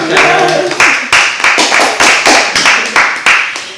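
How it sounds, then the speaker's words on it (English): A few people in a salon interview setting clap, giving sharp, distinct, closely spaced hand claps that come through loud and near in a quick uneven rhythm for a few seconds. "Can we give her a round of applause?"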